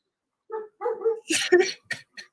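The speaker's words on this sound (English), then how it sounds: "was that your dog, Xenosh?" A dog barks and whimpers in several short, close bursts with yipping tones, heard over a voice call during a movie watch party.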